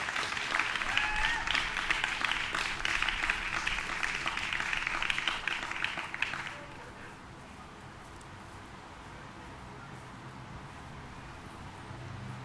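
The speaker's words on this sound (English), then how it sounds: "we'll just give them a big round of applause for the guys opening the show" Audience applause for the opening act at a festival, a dense clapping wash for about six seconds that then stops, leaving quiet room noise.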